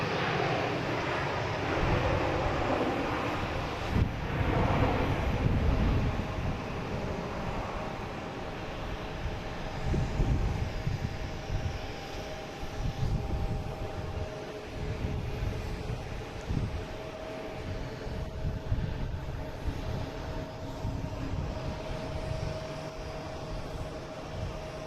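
A Southwest airliner arriving from Nashville, its engine roar sustained and fairly loud at a distance, with broad rumbling wind noise and a steady drone throughout.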